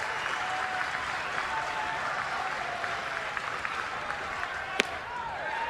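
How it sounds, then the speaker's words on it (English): A baseball crowd at a Florida versus LSU college game gives a sarcastic round of applause after a strike, steady broad clapping and murmur throughout, with a brief sharp crack near the end and faint voices mixed in. "And a sarcastic round of applause."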